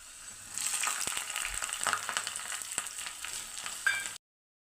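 Garlic and four slit green chillies frying in a pan for a dal curry, giving a steady close sizzle with light crackles and stirring scrapes, then a sudden stop.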